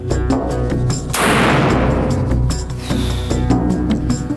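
A single loud, booming black powder gunshot rings out over a steady low background rumble, followed by a lingering echo.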